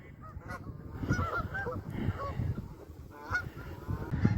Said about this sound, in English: here's all the geese we heard.